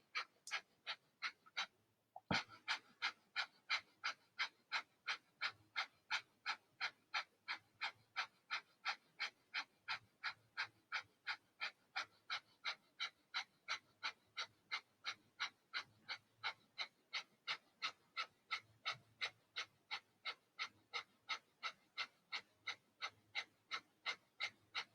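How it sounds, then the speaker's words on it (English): Rapid rhythmic fire breath from a yoga breathing exercise, dozens of sharp, evenly spaced nasal exhales pumping close and clear after a brief opening pause, with no talking. "Take a quarter breath in and begin a fire breath."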